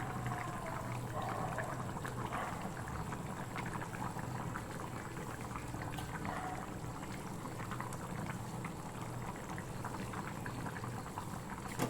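Tamarind dried-fish kuzhambu curry bubbles at a steady boil in a pot, a continuous soft, close gurgle with no voices.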